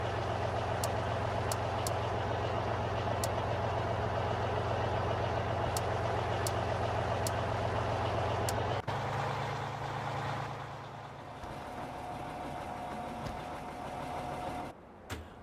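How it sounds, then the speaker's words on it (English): A truck engine idles steadily in Farming Simulator 15 on an Oklahoma rye harvest, a low constant drone with faint ticking clicks, then it shifts to a quieter, different machine hum partway through before cutting out near the end. "I guess we can get the truck going."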